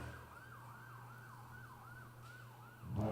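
An ambulance siren passing at a distance, faint rising and falling wails repeating in a steady cycle over a low background hum, ending with a brief louder thump; no talk.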